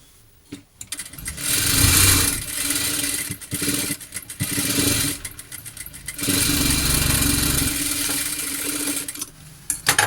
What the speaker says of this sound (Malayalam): ഇനി നമുക്കതൊന്ന് ഡബിൾ സ്റ്റിച്ചും കൂടെ കൊടുക്കാം